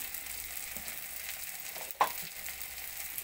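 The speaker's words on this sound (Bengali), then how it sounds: "মশলাগুলো আমি একসঙ্গে মিশিয়ে নিয়ে ভেজে নেব।" Ground cumin, coriander, turmeric and chili powder fry together in a pan for ghugni, a soft steady sizzle close by with one sharp crackle or stir near the middle, no talking.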